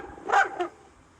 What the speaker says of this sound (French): C'est chien excité qui aboie en la voyant